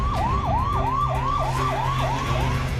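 A loud ambulance siren wails in a fast repeating rising-and-falling pattern, about eight cycles in quick rhythm, close by over a low vehicle rumble.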